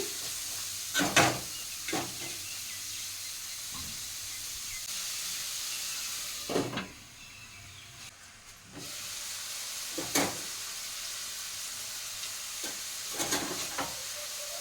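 Kurma curry cooking in a pan on the stove, a steady low sizzle and hiss with several sharp stirring scrapes and bursts, one longer steam surge in the middle, no voices.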